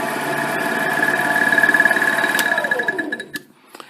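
A metal lathe with a 4-jaw chuck takes an interrupted cut using a ground high-speed steel tool, loud and close: a fast rhythmic knocking over the motor's hum, which then winds down toward silence at the end.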